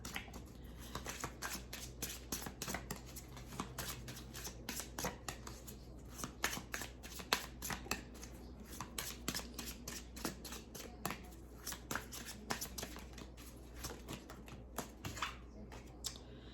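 Tarot cards are shuffled and drawn in a rapid, continuous flutter of close riffling, with soft talking faintly underneath.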